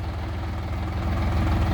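A Dongfeng 244 G2 municipal tractor with its original cab and a brush attachment idles with a steady low diesel throb, close and loud, swelling slightly near the end.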